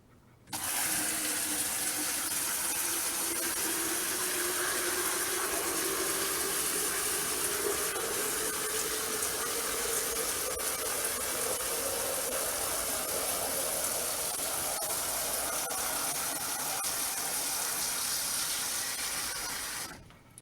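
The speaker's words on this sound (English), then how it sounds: "Let's see how much time it takes for it to fill this 5-liter jug." Strong, steady gush of water pouring from a hose into a 5-liter jug, a continuous broadband rush that rises slightly in pitch as the jug fills, running alone for about twenty seconds before stopping.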